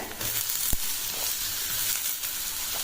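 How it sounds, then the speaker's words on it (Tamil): Onion, green chilli and vegetables fry in oil in a pan, giving a steady close sizzle and hiss with one brief knock and faint stirring. "வெங்காயம் நல்லா வதங்குதுங்க. இப்போ காய்கறிகளை சேர்த்துக்கிறேன்."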